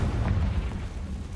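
A Confringo spell explodes in Hogwarts Legacy, a deep rumbling boom with heavy low-end weight that rolls on steadily for over a second, loud and close, with no voices over it.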